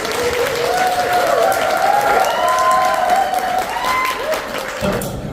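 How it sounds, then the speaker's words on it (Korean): A seminar audience at a Yonsei University CEO alumni forum breaks into steady, loud applause to welcome the association chairman to the stage, with some crowd murmur mixed into the sustained clapping. "우리 박수로 맞이해 주세요."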